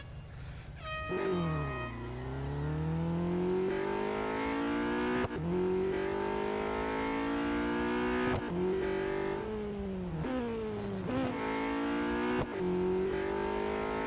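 A modest, slower road car in the racing game Real Racing 3 drones steadily as its engine climbs through the revs, broken by several sharp gear changes, loud and continuous with no talking.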